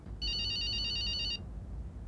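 A phone ringtone sounds once, a bright electronic trill lasting about a second over low background rumble.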